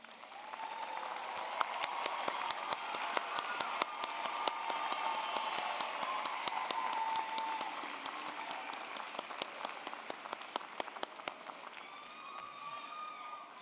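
A large audience at a university spring commencement applauds graduates in a sustained, even wash of clapping, with sharper individual claps standing out nearby and some light crowd noise as it carries on.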